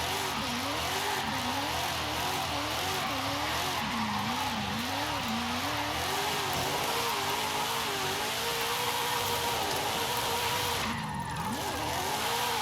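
A Mazda RX-7 drift build in Forza Horizon 5 revs and wails through a smooth downhill drift, engine pitch rising and falling in waves with tire squeal layered over it, loud and continuous.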